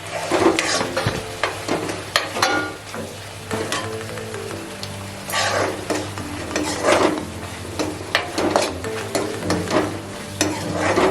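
Dry spices (red chili, coriander, meat masala and cumin powders) are stirred and sautéed in a pan for an Odia crab curry, giving a loud sizzle broken by repeated scraping strokes and bursts of crackle.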